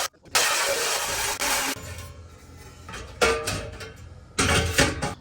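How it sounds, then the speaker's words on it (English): A reciprocating Sawzall rips through metal in loud buzzing bursts: one long cut, a pause with low rumble, then two shorter bursts, harsh and close. "So I'm gonna go grab the Sawzall."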